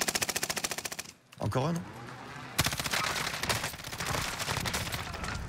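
Rapid gunfire from a Warzone battle royale match, bursts of shots in quick succession at the start and dense continuous firing later, with sharp cracks; someone speaks briefly over the shooting.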